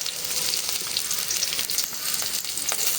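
Onion, garlic and chili fry in a pan with a dense, loud, continuous crackling sizzle, close up, with faint stirring clicks and no voices.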